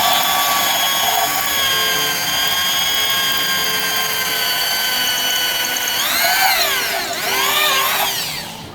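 A power drill whines steadily while boring a hole for mounting to a board during a spot welder build from used microwave transformers, its pitch sweeping down and up near the end as it bites; no talking.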